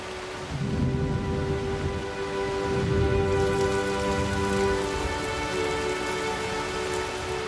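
Heavy rain pours steadily during a seasonal storm, a dense, continuous hiss of drops striking the ground, loud and close with no voices.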